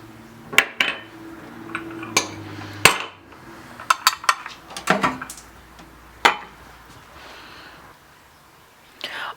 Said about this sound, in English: I'm going to add my essential oil to this and stir lightly.